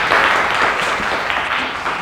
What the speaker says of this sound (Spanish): Le damos un aplauso a la doctora Zulema Gómez.